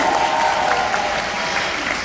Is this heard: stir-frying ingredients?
no